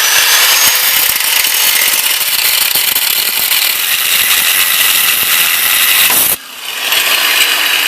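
A cutoff wheel grinds through metal on a 1973 Loadstar Blue Bird bus, giving a loud, continuous high-pitched shriek that breaks off abruptly as the piece gives way, then spins back up.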